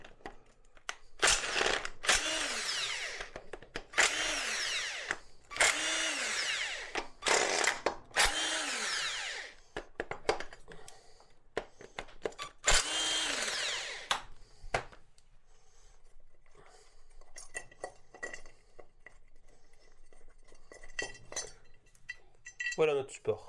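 Tools removing an alternator support bracket from a 2.0 HDi engine during cylinder head removal on a Peugeot 807 / C8 project: a series of metallic ratcheting and scraping bursts, then scattered clinks and clanks, close and moderately loud.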